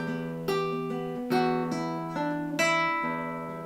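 Plucked guitar notes ring out one after another, each left sustaining and slowly fading beneath the next, played alone and close.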